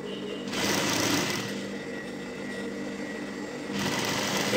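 A sewing machine stitches fabric in a beginner's sewing session with a close, steady motor whir that runs in two longer bursts and dips briefly between them.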